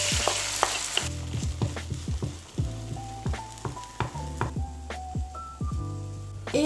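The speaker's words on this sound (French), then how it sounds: "en attendant que l'omelette cuise" An omelette with Provence herbs cooks in olive oil in a pan, giving a steady close sizzle broken by repeated clinks and scrapes of a utensil stirring against the pan, with no talking.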